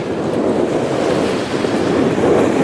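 Sea waves surge and splash at the mouth of the Belbek river on the Black Sea in windy weather, a steady loud roar of surf with wind buffeting the microphone throughout.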